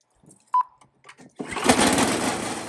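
A Snapper 1030 snowblower engine with its auger engaged fires up after a few quiet clicks and a short tone, then runs on as a loud, steady, close mechanical roar for the last half.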